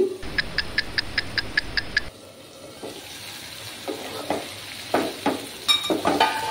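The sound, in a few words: frying and stirring spice masala in pan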